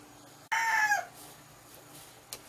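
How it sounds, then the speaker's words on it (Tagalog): Somewhere nearby, a rooster lets out a single loud crow. The call is abrupt and fairly close, then fades into faint background noise in a home kitchen. "Pasensya nyo na yun po yung manok."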